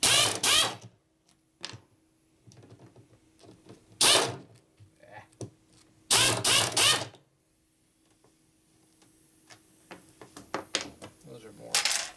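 Torx head screws being taken out of a 1961 Harley-Davidson Sportster XLCH engine during a rebuild, with close scraping and creaking bursts of tool and screw noise, scattered small clicks and ticks, and a voice talking in between.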